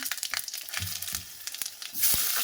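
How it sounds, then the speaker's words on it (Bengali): Whole spices crackle and sizzle in hot oil for an elephant foot yam curry, a close, steady hiss broken by a few sharp pops and spoon clinks, swelling louder near the end. "ফোড়ন দিয়ে দিলাম"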